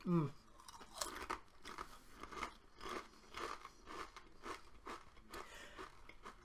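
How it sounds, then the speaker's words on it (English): Cheese and onion crisps crunch between the teeth in a regular run of about a dozen sharp bites and chews, close and quiet, following a brief voice at the start. "There's a crunch all the way to the very end."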